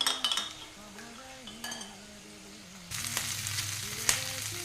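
Chilli chicken being stirred in a frying pan, a steady sizzle of frying with scattered utensil scrapes and clinks against the pan, louder and busier toward the end.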